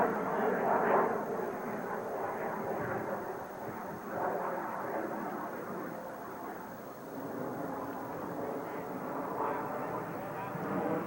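Blue Angels jet formation in a 1989 air show flying past the crowd in diamond formation, a broad steady roar of jet engines holding for about eleven seconds with gentle swells, while a narrator speaks over it.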